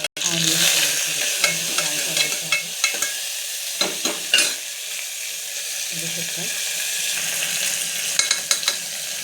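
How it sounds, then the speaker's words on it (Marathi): Garlic frying in hot oil for a dal khichdi, a steady close sizzle broken by scraping stirs and a few brief knocks of a spoon against the pan, with a faint voice now and then. "थोडीशी लसूण आणि फ्राय करून घ्यायला"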